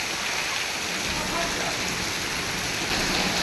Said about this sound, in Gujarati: વરસાદ વધવામાં જ છે આ જોશું